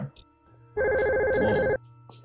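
A telephone in the survival horror video game Clock Tower II: The Struggle Within gives one loud electronic ring lasting about a second, with a player speaking briefly before and after it.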